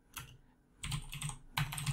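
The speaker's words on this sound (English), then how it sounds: "So go ahead and type in sudo apt-get-install" Clicky computer keyboard typing a Linux terminal command on Ubuntu, heard in three short bursts of close keystrokes separated by brief pauses, with no voice.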